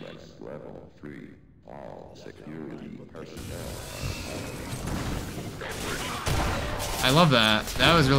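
In the Entropy Zero 2 video game, a possessed turret opens fire with bursts of rapid gunfire and mechanical clatter. The shots build in loudness while someone talks over them.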